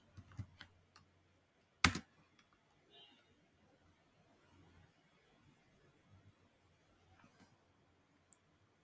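A few sparse, quiet clicks of typing on a computer keyboard, with one sharp louder tap and long near-silent gaps between keystrokes.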